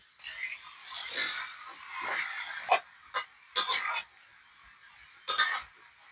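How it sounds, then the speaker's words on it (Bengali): Small shrimp and fried vegetables go into a wok: a soft sizzling, rustling wash followed by a few short clinks and scrapes of a utensil against the metal, close and moderately loud. "এবার আমি ছোট চিংড়ি মাছগুলো দিয়ে দেবো এবার ভাজি করে রাখা সবজিগুলো আমি দিয়ে দেব"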